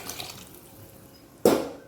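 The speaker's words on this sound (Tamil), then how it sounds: "இப்போ அளவு தண்ணி ஊற்றணும்." Water poured from a tumbler into a pot of tomato rice, heard as a short, close splash of liquid after a quiet stretch, followed by a second brief pour at the very end.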